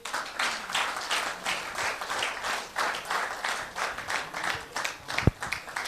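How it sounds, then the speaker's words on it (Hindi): An audience applauds at a business presentation by a trading company, producing steady, fairly loud, continuous clapping from a crowd throughout with no talk over it. "इन खोजियों के लिए तालियां होनी चाहिए।"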